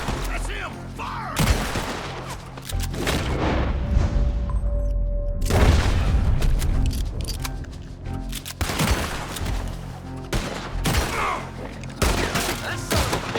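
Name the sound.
gunfire volley in Red Dead Redemption 2 video game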